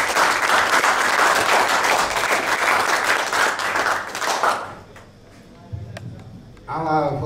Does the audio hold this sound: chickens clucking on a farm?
no